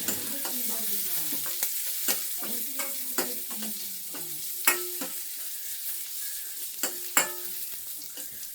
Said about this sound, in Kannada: ಸ್ವಲ್ಪ ಫ್ರೈ ಆಗಲಿ, ಈರುಳ್ಳಿ ಫ್ರೈ ಆಗಲಿ.